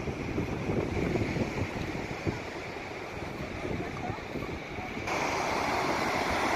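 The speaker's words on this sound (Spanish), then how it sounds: "se notan las olas muy bonitas que chocan con las piedras, con las rocas" Ocean waves crashing against the rocks at Point Lobos, California, a continuous broadband roar and wash of surf with wind noise on the microphone, steady throughout and slightly louder near the end.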